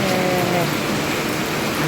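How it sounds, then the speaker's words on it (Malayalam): Heavy monsoon rain pours down at a home garden in Kerala, a dense, loud, continuous hiss of drops hitting surfaces without pause. "ഇന്ന് നല്ല മഴയാണ് കേട്ടോ"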